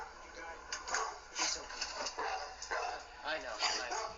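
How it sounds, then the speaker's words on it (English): Protective dogs barking inside a home during a police visit, several sharp yips and barks in quick uneven bursts, fairly faint and mixed with background voices. "The dogs being protective."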